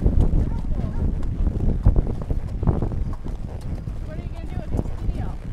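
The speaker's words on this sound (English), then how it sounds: "We went horseback riding." Horse hooves clip-clop at a walking pace during a horseback ride on a farm, heard outdoors amid wind buffeting the microphone, with people talking over the rhythmic steps.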